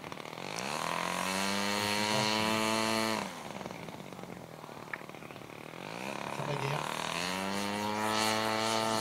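A model warbird airplane's engine at a model aircraft meeting, a loud sustained propeller drone that dips and surges with throttle changes, passing near then pulling away and returning, with faint crowd noise.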